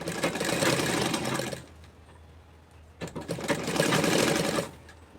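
A sewing machine stitches the neck strip of a kurti, running in two steady, fast bursts of rattling stitches about a second apart, with a quieter pause between them.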